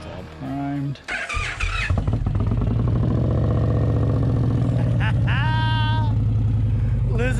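An Indian Pursuit motorcycle engine cranks, fires and settles into a loud, close, throbbing idle after months of sitting, with blips of throttle rising and falling; someone talks over the engine at times.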